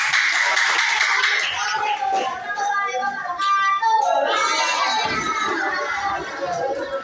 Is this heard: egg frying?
no